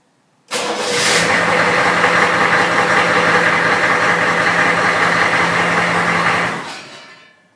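A HMMWV engine cranks and catches after a newly installed key-start switch, then settles into a steady, loud idle with a low rumble, running alone for several seconds before cutting off.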